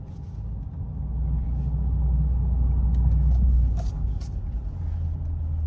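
A Chevrolet Corvette C8 engine runs with a steady low rumble that swells slightly in the middle, heard from nearby with no talking.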